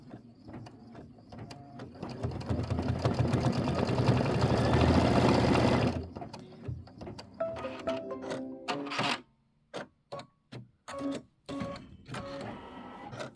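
An embroidery machine stitches out a mug rug design, humming and rattling steadily up close before breaking into short bursts of stitching separated by pauses.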